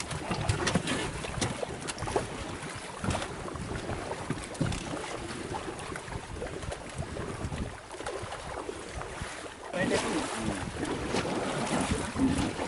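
Strong wind blowing over a lake at Singabhupalem tank in Sujathanagar mandal, Kothagudem, during a DDRF team's boat rescue: a continuous gusty roar and buffeting with brief lulls, heard without talk.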